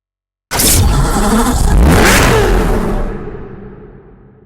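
A Chevrolet Corvette ZR1 in a racing video game bursts into a loud, sustained engine rev and whoosh, holding full roar for a couple of seconds before gradually tapering off.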